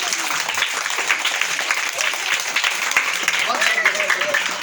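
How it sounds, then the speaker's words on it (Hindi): A crowd claps and applauds near a snake charmer's street show with a nagin dance, steady dense clapping running throughout with voices mixed in. "ताली बजाओ"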